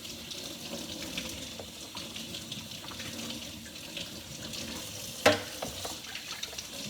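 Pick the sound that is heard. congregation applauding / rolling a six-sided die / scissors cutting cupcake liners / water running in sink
water running in sink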